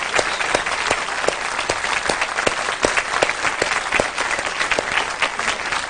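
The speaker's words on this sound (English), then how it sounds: "I think Carolyn deserves a big round of applause" A studio audience claps steadily, a dense and even round of applause that holds at moderate loudness throughout with no voices over it.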